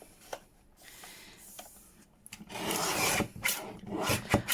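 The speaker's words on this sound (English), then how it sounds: "I'm just going to get my trimmer out and cut down" A paper trimmer blade slides along card, producing soft rasping scrapes, quiet at first and then a louder run of rough cutting strokes near the end.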